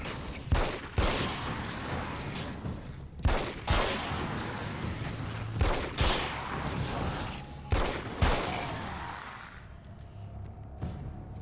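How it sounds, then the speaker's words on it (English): Handgun rounds fired in a video game: about six sharp single shots spaced a second or two apart, each with a short echoing tail, over a low steady background rumble, with no talk. "Let's see how many handgun rounds it takes."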